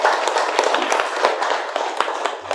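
Steady audience applause at a spiritual gathering: dense, continuous clapping with a few sharper individual claps standing out, close and filling the whole stretch.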